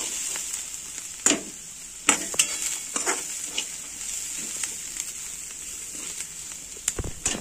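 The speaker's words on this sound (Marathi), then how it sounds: "तेलात कांदा शेंगदाणे परत, तेलात शेंगदाणे कांदा असं परततोय" Onions and peanuts fry in oil with a soft, steady sizzle. Sharp scrapes and clinks from stirring in the pan break in at irregular moments throughout, and no one speaks.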